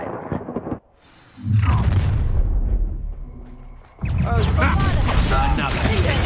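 A loud spell blast goes off in Hogwarts Legacy, a sudden booming burst after a brief lull, followed by dense crashing game noise and battle effects; a voice speaks partway through.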